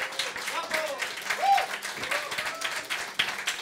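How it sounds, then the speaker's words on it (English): An audience at a talk applauds for a speaker, with a dense patter of clapping running under a voice speaking over it. "A big applause to Mike Hill."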